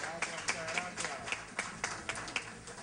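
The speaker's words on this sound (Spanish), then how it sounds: "Caballero, un aplauso" An audience claps at a Miami-Dade County recognition ceremony: irregular, fairly light claps scattered through the moment, mixed with talking.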